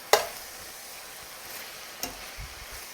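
Spinach sautéing in a pan with garlic, stirred with tongs: a soft steady sizzle with a sharp tong clack at the start and another light knock near the end.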